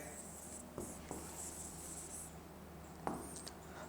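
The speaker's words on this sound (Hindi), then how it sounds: "इसी के नीचे ही हम स्टेटमेंट को लिखते जाते हैं" Pen or marker scratching out a statement on a board for a math induction lesson, soft continuous strokes with a few sharper taps, faint against a steady background hiss.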